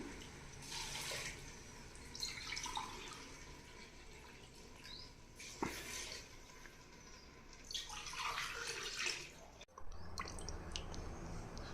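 Water splashes and trickles in several uneven pours into rice for chicken pulao, close by and moderately loud, with faint dripping after.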